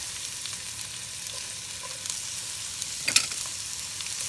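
Half an onion cut julienne fries in butter in a skillet, a quiet, even sizzle with a few faint crackles and one sharp clink near the end.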